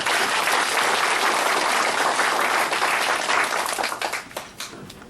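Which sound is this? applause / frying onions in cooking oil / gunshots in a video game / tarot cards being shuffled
applause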